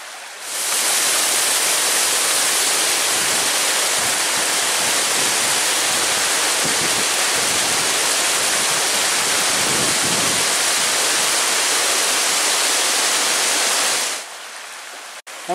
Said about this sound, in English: And this is a stream that makes Spray Falls.